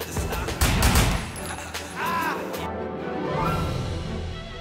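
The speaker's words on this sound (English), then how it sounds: "Am I getting shot through this?" Gunfire in the action video game Sleeping Dogs comes as a quick fusillade of shots mixed with game sounds and background music, with a voice briefly heard.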